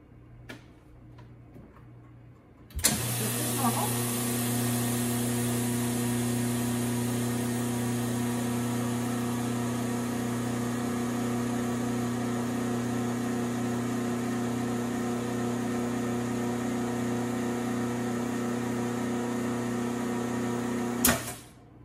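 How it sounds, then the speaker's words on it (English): A vacuum sealer runs on a bag of freeze-dried food being nitrogen-flushed, its steady motor hum holding for nearly twenty seconds after a sharp start and ending with a click, close and alone. "And then we're gonna go ahead and take this and vacuum seal it."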